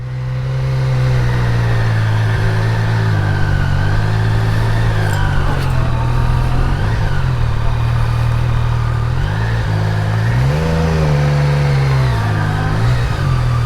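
A Yamaha Niken GT three-wheeled motorcycle's engine hums loudly and steadily while riding, its pitch rising and falling gently with throttle changes, with wind noise throughout.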